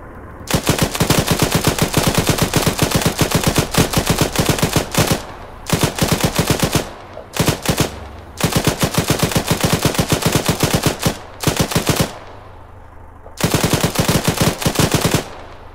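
Machine gun fire in the military shooter game Arma, long sustained automatic bursts of rapid shots broken by short pauses, loud and close, no talking.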